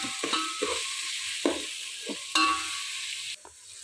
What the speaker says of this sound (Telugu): వేసి ఇలానే కలబెట్టేసి నేను లో ఫ్లేమ్లో వేయించుకుంటున్నానండి